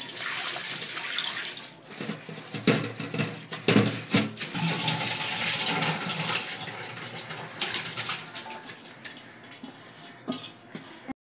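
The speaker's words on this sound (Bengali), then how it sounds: "সবার প্রথমে আমি চিড়েটা ধুয়ে দিচ্ছি" Flattened rice (chira) rinsed under a running kitchen tap, a steady close hiss of flowing water with splashes and light knocks throughout, no talking.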